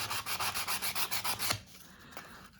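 Sandpaper rubbed by hand over a carved wooden piece with fine grit, a close rhythmic back-and-forth scratching of about eleven even strokes, then it stops and a few faint scrapes follow.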